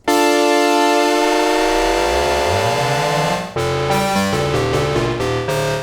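A harsh, buzzy Memorymoog synthesizer tone, oscillator 3 modulating oscillator 1's frequency, with shifting, clashing overtones, gliding in pitch, then stepping through several abrupt changes in timbre.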